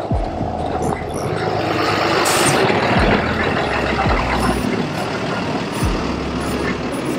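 A tow truck hauling a Ford Raptor, with loud, close, steady engine rumble and droning mechanical noise, broken by a few low thuds and clunks, and a brief raised hiss near the middle.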